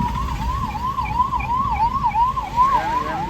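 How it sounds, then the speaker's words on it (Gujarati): A 108 ambulance siren wails in a steady rising-and-falling pattern as it passes along a road, loud and continuous over low traffic rumble, with no voices. "જો આમાં જો એમ્બ્યુલન્સ વાહે આવે આપણે, એટલે આપણે એમ્બ્યુલન્સને જગ્યા આપીએ."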